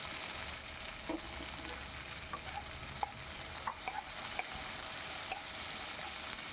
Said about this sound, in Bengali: এবার ভালো করে আমি একটু সারতে নিচ্ছি